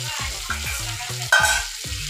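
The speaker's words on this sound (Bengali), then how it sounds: "এবার ফ্রাই করা হওয়া আলুগুলো দিয়ে দেব" Fried potatoes tipped into sizzling spice masala for a Bengali village-style soya chunk and potato curry, stirred with steady rhythmic scrapes over a continuous hiss and a sharper burst of frying as they land, close and loud.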